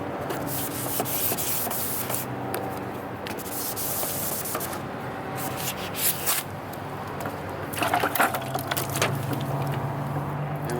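Wet sandpaper rubbed by hand across a faded plastic car headlight, a steady scratchy rasp of repeated strokes, close and moderately quiet, with a few louder scrapes near the end.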